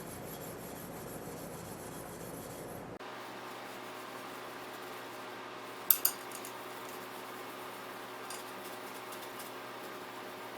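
Light scrubbing on an oiled gun to lift rust, a faint steady rasp over low background hum, with a couple of brief sharp clicks partway through and no voices.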